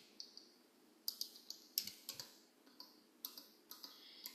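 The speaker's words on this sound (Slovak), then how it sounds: "Na klávesnici šipka dole" Computer keyboard keys, including the down arrow, are tapped in a run of sharp, separate clicks at uneven intervals, close and fairly quiet, with no speech.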